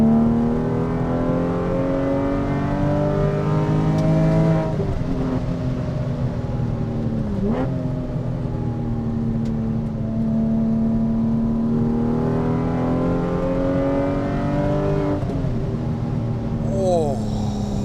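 Porsche 996 911 with an X-pipe exhaust cruising steadily at about 4,000 RPM, a loud continuous engine drone with layered harmonics that dip and swell briefly with shifts in throttle throughout.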